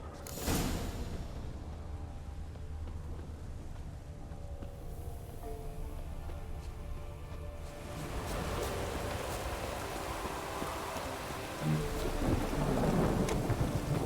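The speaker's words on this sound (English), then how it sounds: "Oh, it's drizzling." Steady rain pours through a storm scene in The Witcher 3, with rumbling thunder rolling underneath and a heavier burst of rain and thunder swelling near the end; no one speaks.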